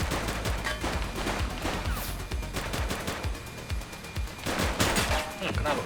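Rapid gunfire crackles through a shootout in the police game The Precinct, dense repeated shots firing steadily for several seconds, fairly close, with faint voices mixed in.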